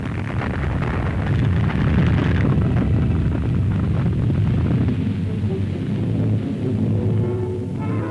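A massive blast of over 5,000 kg of TNT detonated beneath the Alcázar fortress during the Spanish Civil War siege, rendered as a loud, sustained rumbling roar that fills the whole stretch with dense low-end debris and noise.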